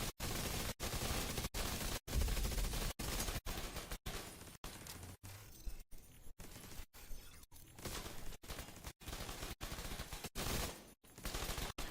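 A turret in The Division 2 fires sustained automatic gunfire, a steady, dense stream of rapid shots broken by brief regular gaps, loud and close throughout.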